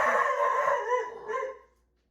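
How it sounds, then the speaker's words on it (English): A dog lets out a drawn-out, howling bark-like yowl with a second rising call, fading out after under two seconds. "That was my dog, and he sounds very ferocious"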